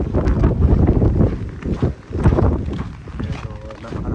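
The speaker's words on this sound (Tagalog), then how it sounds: "Pero napakalakas ang hangin." Strong wind gusts roar across the microphone during a snow blizzard, loud and continuous with brief lulls, while a voice talks over it.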